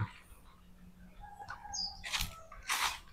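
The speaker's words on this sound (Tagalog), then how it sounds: "Mga huni ng ibon, pagaspas ng hangin" Birds chirp outdoors among trees, a few short high calls and brief twitters heard close, among light breezy noise and a couple of soft thumps.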